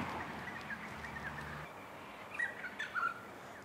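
A bird gives short, squawky calls in the open. Several brief notes come close together near the end over steady background noise, and they sound fairly faint.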